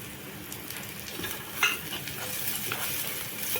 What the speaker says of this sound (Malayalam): എന്നിട്ട് നന്നായി ഇളക്കി കൊടുക്കുക ഗൈസ് നന്നായിട്ട് വഴറ്റിയിട്ടുണ്ട്